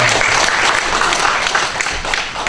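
A church congregation gives loud, sustained applause during a Sunday service, a dense, continuous wash of many hands clapping at once that holds steady throughout.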